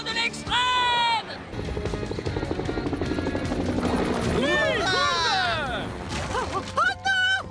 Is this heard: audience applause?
no